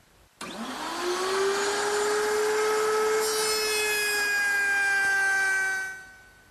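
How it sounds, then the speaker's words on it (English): Router table with a quarter-inch round-over bit shaping a wooden drawer front, the motor spinning up with a sharp start to a steady high whine, then cutting into the wood before winding down. "I'll use my router table with a 1/4-inch rounding over bit"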